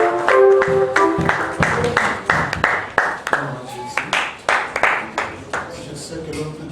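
A church conference congregation claps in acclamation of God, with rhythmic hand claps mixed with voices calling and singing, loud at first and then breaking into uneven bursts.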